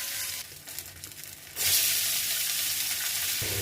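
Chopped onions hit hot oil with dried red chillies already frying, and a quiet crackle jumps into a loud, steady, hissing sizzle that holds on until the end.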